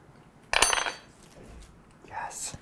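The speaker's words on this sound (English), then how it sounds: "Stir that together." Spoon clinks and scrapes in a bowl as minced basil and parsley are stirred together with salt and pepper, a sharp clatter at the start and lighter scraping after, close and moderately quiet.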